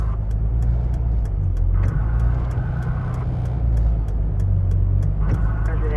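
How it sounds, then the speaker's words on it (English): Cars pass on a snowy forest highway during a heavy snowstorm, their engines and tyres making a loud, continuous close rumble with rising swells. A steady ticking runs throughout. "I just saw 2 cars go by here."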